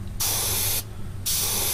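Two long hissing bursts from a spray can or airbrush painting a scale model, each lasting roughly half a second, close and loud over a low room hum.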